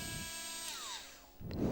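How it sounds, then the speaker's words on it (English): Dremel rotary tool briefly test-run on a workbench, a high whine that winds down in pitch before a short rough burst of grinding noise at the end, close and fairly quiet. "I've got the Dremel all prepped here, ready to rock and roll. I'm just going to test."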